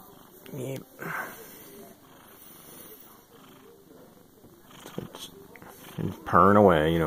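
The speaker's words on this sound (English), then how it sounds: "Purring away, you don't care." A house cat purrs softly and steadily close by while a person talks to it in an affectionate voice, with a brief louder vocal burst near the end.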